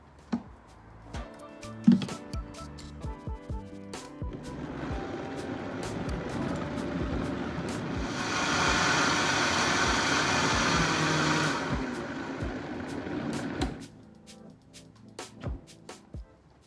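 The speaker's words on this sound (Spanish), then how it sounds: "Esta licuadora es muy potente, así que está hecha en nada" A powerful blender purées potato vichyssoise, whirring steadily for several seconds, rising to a louder, denser roar before cutting off, with scattered knocks and clatter before and after.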